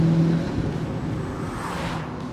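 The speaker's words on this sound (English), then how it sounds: "if you actually want to pass or just accelerate and mean it, you just put your foot down and the boost comes in immediately" A turbocharged car accelerates hard as boost comes in. A brief rising engine tone gives way to a dense rush of engine and road noise, loud and close, lasting only a couple of seconds.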